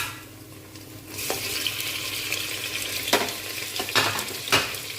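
Chopped tomatoes drop into onions frying in oil for mutton curry, and the sizzle swells into a louder, wetter hiss, with a few sharp scraping strokes of a spoon in the pan, close and unaccompanied by talk.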